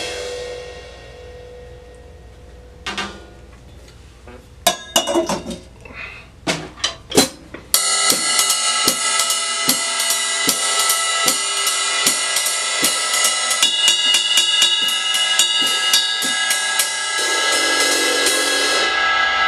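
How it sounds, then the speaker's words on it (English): A few scattered taps, then a steady, bright pattern on a 2872-gram deep ride cymbal rings out with a washy shimmer that sustains and builds. "Deep ride cymbal. 2872 grams. Here's what it sounds like."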